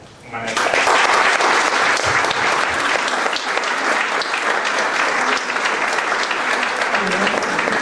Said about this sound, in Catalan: I per això demano un fort aplaudiment al seu Manet.